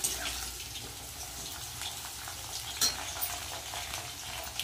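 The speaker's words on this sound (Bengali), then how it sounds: "উচ্ছে আর আলুটা ভেজে নিচ্ছি" Bitter gourd and potato frying in oil, a fairly quiet continuous sizzle and hiss with a brief knock of stirring partway through.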